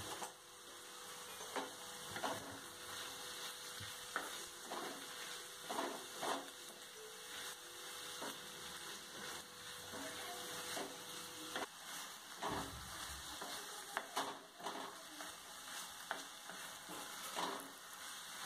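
Salted paneer fries in a pan on the stove, giving a faint, continuous sizzle with soft scraping and stirring taps scattered throughout, and no one speaking.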